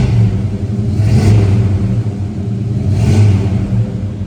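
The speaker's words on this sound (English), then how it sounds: "Give this thing a rev so you guys can hear it." A 1966 Chevrolet Chevelle Malibu convertible's engine revs twice, rising in loud, close surges over a steady rumbling idle, with no one talking.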